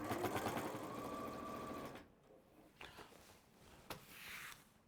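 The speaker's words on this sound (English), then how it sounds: "you're just going to sew around the rest of it" A sewing machine stitches a lap quilt, running steadily and fairly close for about two seconds before stopping, followed by quiet handling noises and a few soft taps.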